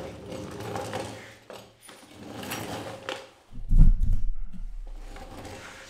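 A shifter kart axle is pulled back out of its bearings, giving faint metallic sliding and clunking, with a louder thud and scrape partway through.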